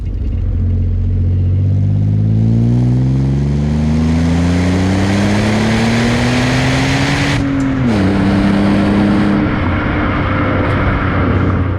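An Alfa Romeo 156 GTA engine drones steadily and loudly, its pitch slowly rising as it revs, then dipping briefly before holding steady again.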